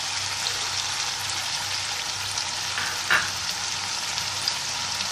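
Chopped bottle gourd and broccoli sizzle steadily in hot oil in a frying pan, a constant close crackle with a single brief clink partway through and no talking.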